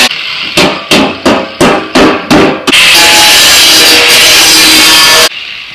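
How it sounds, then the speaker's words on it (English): Cutting a hole for an air intake on a 7.3 Powerstroke build: six sharp, evenly spaced hammer-like blows, then a steady, loud rasping cut for a few seconds before it stops. "Next thing I gotta do is I have to cut a hole right here where I can basically serve as an air inlet."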